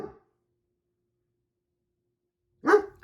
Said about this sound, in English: now that that dramatic barking interlude is over